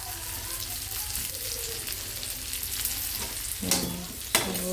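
Sliced onion fries in a hot pan with a steady, close hiss of sizzling oil, broken near the end by a couple of sharp clinks of a utensil.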